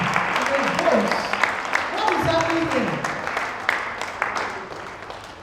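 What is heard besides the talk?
audience applause for speaker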